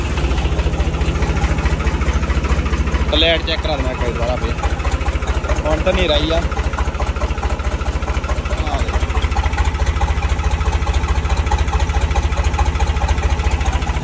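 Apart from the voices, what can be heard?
New Holland tractor engine started and idling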